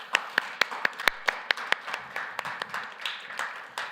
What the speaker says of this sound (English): So please give a warm applause to Suhaib,